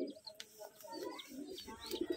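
Rajshahi Giribaz pigeons coo softly nearby in a loft, low throaty murmurs repeating in short bursts with a few faint chirps, quiet overall.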